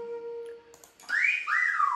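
Whistle blown in a Roblox game, two bright swooping tones, one rising then a second falling away, clear and alone after a quiet electronic beep.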